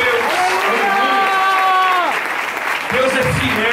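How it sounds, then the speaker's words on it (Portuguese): Church congregation applauds steadily in a loud, dense wash of clapping while voices sing or call out sustained tones over it throughout. "Pode aplaudir Jesus mesmo."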